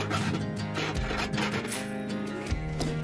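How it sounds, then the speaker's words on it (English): Someone files drilled holes in a metal van roof, making short repeated rasping strokes that are close and fairly quiet, followed by a light knock near the end. "Then file down the holes."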